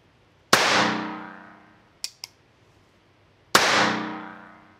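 Two loud, sharp reports from a Bond Arms Stinger .22 LR derringer, each ringing out and fading over about a second, with quick metallic clicks of the hammer being cocked between shots.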